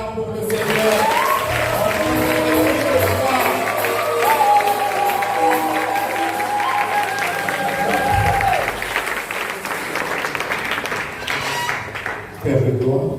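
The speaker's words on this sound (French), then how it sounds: "On acclame pour le Seigneur." A church congregation applauds and cheers loudly in sustained waves, with clapping, shouts and singing-like voices layered over it before it tapers off near the end.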